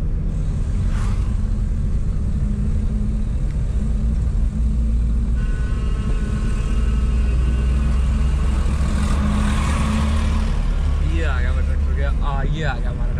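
Farmtrac Champion tractor loaded with bricks rumbling along a road ahead at steady speed, a continuous low engine drone heard from close behind, with someone talking over it throughout.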